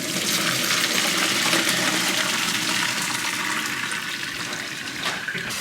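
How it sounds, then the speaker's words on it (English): Pasta noodles are strained in a kitchen sink, a steady loud rush of pouring water splashing continuously, close and without voices. "we're gonna strain the noodles, all right? So let's go to the sink."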